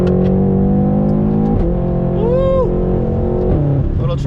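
A BMW M6 accelerating hard in third gear with an upgraded loud exhaust, a steady roaring engine note climbing in pitch, with a brief gear-change dip partway through.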